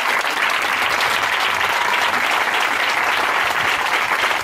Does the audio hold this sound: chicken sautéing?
no